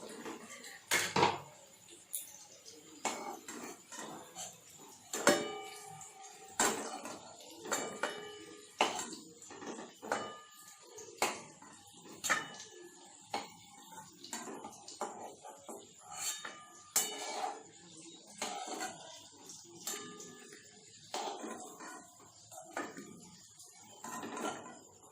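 Fried potatoes being lifted out of a pan with a metal utensil in a home kitchen, giving a steady run of light clinks and scrapes against cookware, with a sizzle faintly underneath.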